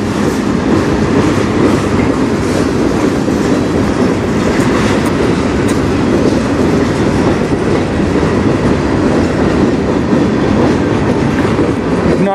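A CN mixed freight train led by ET44AC and SD75I diesel locomotives rolls past close by, a loud, steady roar of rumbling cars and rhythmic clickety-clack wheels filling the whole stretch with no talk.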